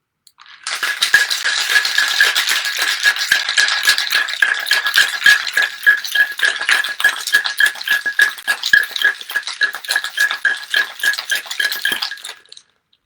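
A cocktail shaker worked hard with ice inside, producing a loud, close, continuous rattle of rapid clattering strokes that lasts about twelve seconds before stopping abruptly.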